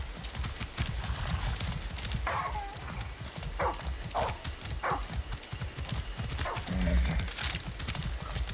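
A horse in the video game Far Cry 6 trots with steady clip-clopping hooves, with short snorts or whinny-like calls scattered throughout and game ambience underneath.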